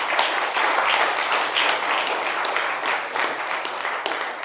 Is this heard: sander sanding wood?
no